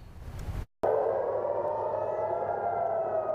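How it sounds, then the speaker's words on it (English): Air raid sirens wail across Israel in a steady, sustained tone with a slight rise and fall. The wailing sounds distant yet strong and echoes outdoors, following a brief cut to silence near the start. "Air raid sirens continue to echo across Israel"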